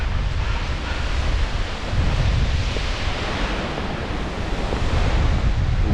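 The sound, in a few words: strong wind on a mountain summit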